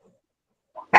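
A dog outside in a yard gives a brief low sound, then one sharp bark after a near-silent gap. The bark is short and sits at mid distance, with no talk over it.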